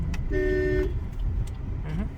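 A single short car horn honk rises over the low rumble of a Maruti S-Cross's engine and road noise inside the car during a beginner driving lesson, followed by quieter cabin sounds.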